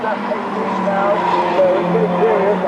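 A 1990 British Touring Car Championship race car at Oulton Park locks up its left front tyre, giving a brief squeal over the droning engine, with a commentator talking throughout.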